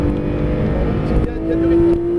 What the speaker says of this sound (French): Maintenant, on rétrograde.